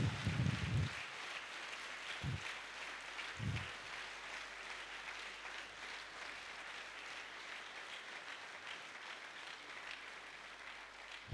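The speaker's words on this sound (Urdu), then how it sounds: "زوردار تالیاں" A church congregation at a Christian sermon applauds in a steady, distant wash of clapping, with a few stronger bursts near the start. The applause then settles into a faint, even patter.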